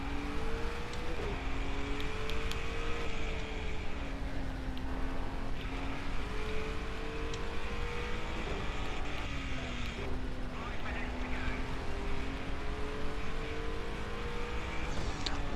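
Car engines droning steadily during a video game chase involving an Acura and a BMW, a continuous hum with shifting pitch as the cars rev and change gears, heard under speech.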